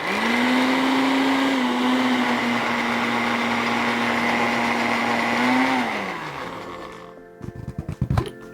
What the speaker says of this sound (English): We're just gonna put them in the blender.